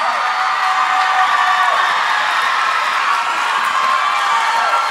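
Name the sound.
audience applause for dancers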